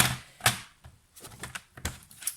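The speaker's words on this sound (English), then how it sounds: "what I want to do is, I want to cut my cardstock" A paper trimmer slices cardstock for a handmade card: a quick series of close, crisp clicks and a sliding scrape, fairly quiet, with no talk.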